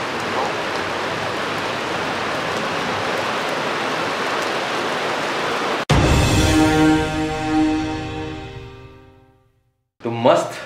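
Steady rain in Delhi falling as a dense, even hiss for several seconds, cut off abruptly by a sharp click, then a louder tonal sound and brief noise follow.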